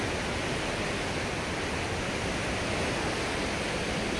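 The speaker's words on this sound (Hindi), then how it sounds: "कोई और आवाज़ नहीं है, गंगा मैया की आवाज़ है सिर्फ।" Steady broadband rush of the Ganges river flowing in waves at Rishikesh, a continuous loud, even roar of moving water with no voices over it.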